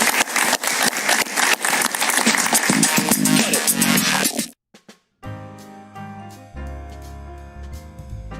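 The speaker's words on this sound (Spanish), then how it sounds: "Un aplauso para él" Studio audience applause for a journalist guest on a talk show, loud rapid clapping for about four and a half seconds that cuts off abruptly, followed by a brief silence and then music.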